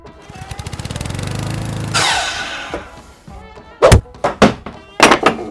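A miter saw whines up to speed, then bites briefly through a 2x4 board with a harsh rising roar. Several loud wooden knocks and thumps follow as the cut pieces are handled.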